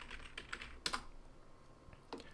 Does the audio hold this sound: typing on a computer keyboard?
yes